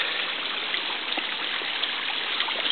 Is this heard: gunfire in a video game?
no